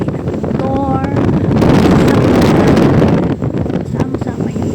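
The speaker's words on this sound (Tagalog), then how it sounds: "Ingay ng hangin, ingay ng motor." Heavy wind buffeting a microphone aboard a moving boat, a motor droning underneath; loud, constant roar with gusty swells and a brief tonal whine early on.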